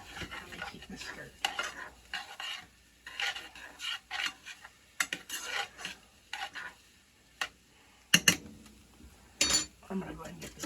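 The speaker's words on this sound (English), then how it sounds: "let me keep this stirred." A spoon scrapes and stirs cheeses in a pot for nachos, giving repeated gritty scraping strokes at close range, some sharper clinks against the metal.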